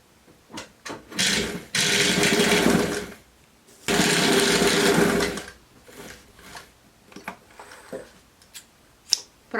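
A sewing machine stitches three layers of cardigan fabric in two loud, steady whirring bursts of about two seconds each. Quieter handling clicks and fabric rustles come before, between and after the bursts.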